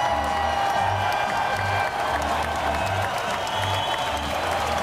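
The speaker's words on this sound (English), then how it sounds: "Let's give these two a round of applause." A crowd claps and cheers in a loud, continuous round of applause for about five seconds, with a faint rhythmic low thumping underneath.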